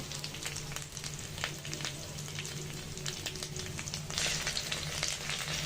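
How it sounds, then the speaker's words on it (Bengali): Prawn fritters sizzle steadily in hot oil in a pan, a continuous crackling fry with brief brighter spatters, close and fairly quiet, with no talking. "চিংড়ি মাছের বড়াগুলো এভাবে অপর পাশটাও লাল ব্রাউন কালার করে ভেজে নিব গোল্ডেন কালার করে"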